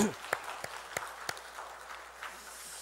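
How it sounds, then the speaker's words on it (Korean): A few sharp, evenly spaced hand claps ring out in a church during a Sunday morning service, sparse and echoing rather than a full round of applause, fading into quiet room noise. "우리 박수로 마무리하도록 하겠습니다"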